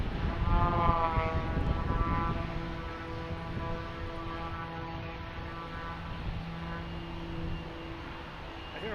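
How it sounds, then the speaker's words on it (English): A propeller plane drones overhead near a busy airport, a steady harmonic hum with a low tonal buzz that swells slightly at first and then holds evenly. "hear a prop plane somewhere."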